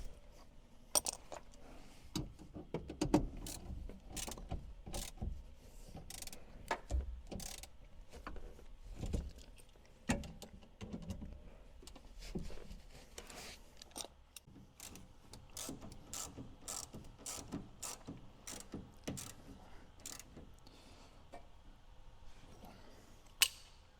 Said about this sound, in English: Tighten these bolts back up, 13 millimeter.